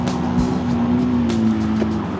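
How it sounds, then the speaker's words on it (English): A car engine holds a strong, steady throttle note as the driver punches the throttle through a turn, with the sound close and continuous for the whole brief stretch. "Punch the throttle. Starts to come round. Now more throttle to hold it."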